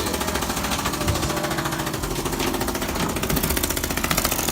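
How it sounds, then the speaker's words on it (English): A gas-powered ice fishing auger engine runs steadily and loudly at close range, a continuous rattling, hammering drone on a frozen lake in minus 14 degree weather with high winds. "They got the auger going."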